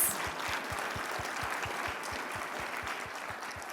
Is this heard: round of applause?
yes